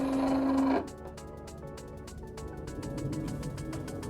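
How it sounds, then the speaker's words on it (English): A LOKLIK iCraft cutting machine calibrating: a steady hum breaks off after the first moment, then a run of soft, regular ticks and clicks follows while the motor moves, close by and fairly quiet. "And now the machine is calibrating."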